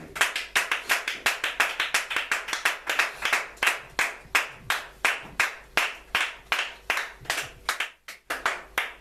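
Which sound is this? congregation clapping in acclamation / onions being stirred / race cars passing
congregation clapping in acclamation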